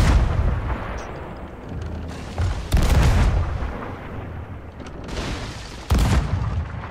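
Ship cannons firing in Sea of Thieves, several loud booming shots spaced a second or two apart, each with a heavy low thump and a rolling tail, no talk over them.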